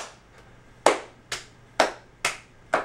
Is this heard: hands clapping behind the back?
yes